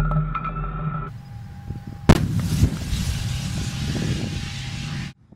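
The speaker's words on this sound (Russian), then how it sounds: "Стрельба выполняется из спаренного пулемета или орудия в зависимости от мишени." Heavy tank fire from the main gun and coaxial machine gun booms out with a sharp blast partway through, followed by a sustained rumbling roar of firing and engine noise that cuts off abruptly, at a tank biathlon training range.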